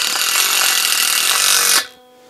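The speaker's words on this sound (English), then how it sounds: "I'm just going to put a self-tapping screw" Power drill driving a self-tapping screw into a chicken coop hoop frame, a loud continuous whirring buzz for nearly two seconds that stops abruptly, leaving quiet background.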